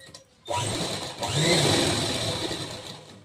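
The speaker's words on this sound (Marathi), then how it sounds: "तर या ठिकाणी आपण वरतून शिलाई करून घेऊया" A sewing machine runs a line of stitching along the top edge of fabric while a back panel with a hook strip is attached, starting abruptly after a brief quiet moment and then whirring steadily and close, without talk.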